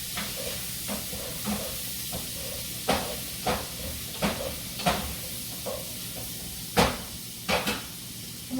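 Bacon fries in a pot, a constant soft sizzling hiss punctuated by a series of sharp clicks and knocks from utensils at irregular intervals, fairly quiet and close.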